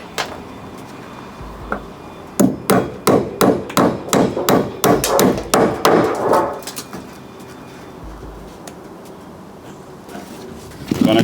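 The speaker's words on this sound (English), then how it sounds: "I'm gonna try and put a nail right in the bottom here." A hammer drives a nail into a wooden joist during a home DIY repair, with about fifteen sharp, close, rapid blows in a steady run, followed by quieter room noise.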